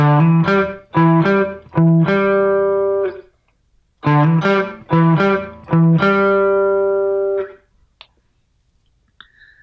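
A distorted guitar plays a short lick with a string bend, punchy notes, a pause, a repeat with a sustained ringing note, then a fade to near silence.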